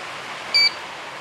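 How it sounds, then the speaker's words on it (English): A UPS uninterruptible power supply emits a single short, clear electronic beep over a steady low hiss. "Now it'll beep."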